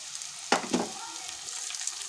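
Carrot, beetroot and mushrooms fry in oil with a soft steady sizzle, broken by two sharp stirring scrapes early on, close and moderately quiet.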